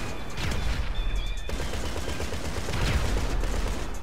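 Gunfire crackles in the video game GTA 5 Online during a vehicle combat match, with continuous rapid bursts and shots blending into a dense, loud barrage without pauses.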